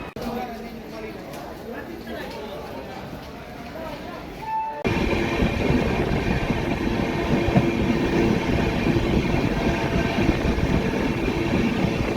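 A passenger express train bound for Ahmedabad rolls along with a steady loud rumble and rhythmic rail noise, growing noticeably heavier partway through, while a voice speaks over it.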